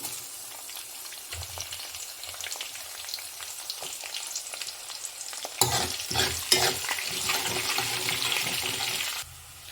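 Onions fry in a pan with roasted chillies and dals for semiya upma: a steady sizzle with stirring scrapes that swells louder and more crackly halfway through, no talking.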